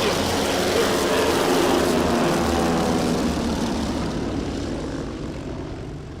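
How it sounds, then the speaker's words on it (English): A Douglas DC-3 passes at a STOL competition airfield in Gallatin, Tennessee, its twin radial propeller engines a loud throbbing roar that slowly fades as it moves away. "Such an awesome airplane."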